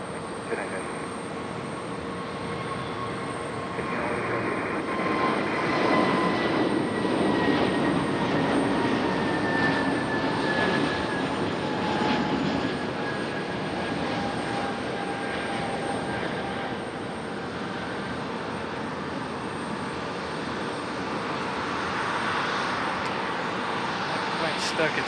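An airliner departing the runway at Raleigh Durham airport builds a long, steady jet engine roar with rising whine tones, distant to mid-range, while voices talk over it.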